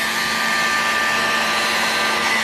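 A heat gun set to maximum blows hot air over an engine head, giving a loud, steady, unbroken whoosh with a faint whine on top.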